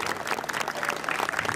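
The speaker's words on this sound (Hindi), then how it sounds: "जोरदार तालियां" Applause from a crowd at a Shri Shyam kirtan night, a steady patter of many hands at moderate distance with no talk over it.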